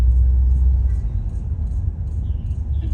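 A 1991 Toyota Soarer JZZ30 idles with a low, steady engine rumble, and a faint, regular ticking repeats over it at a slow, even rhythm.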